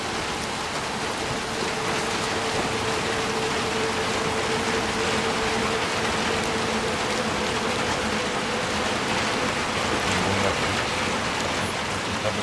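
Rain falls in the video game Little Nightmares II, a constant, dense hiss of rainfall on surfaces with a faint low hum underneath and no talking.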